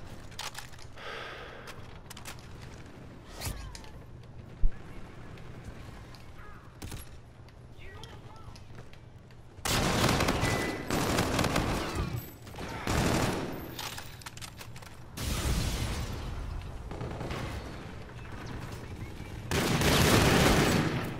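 Video game shotgun blasts ring out in loud bursts across several exchanges, with sharp crackling reports mixed with game noise and quieter stretches in between.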